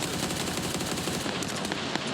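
Rapid automatic gunfire from a video game, fired with iron sights: dense, continuous bursts of close, sharp shots run the full length of the clip with no gaps.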